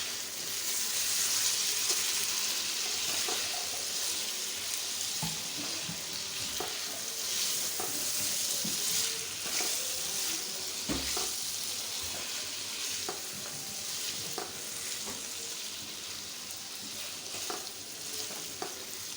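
Potatoes sizzle steadily in a hot pan for mixed vegetable sabzi while a spoon stirs them, scraping and clinking at irregular intervals over a continuous, close frying hiss.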